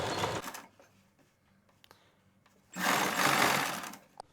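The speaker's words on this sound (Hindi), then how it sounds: "छोटे छोटे स्टेप्स में सिलाई लगाओ।" A sewing machine runs in two loud bursts of rapid stitching through thick lining fabric, with a quieter pause between them marked by a few faint clicks.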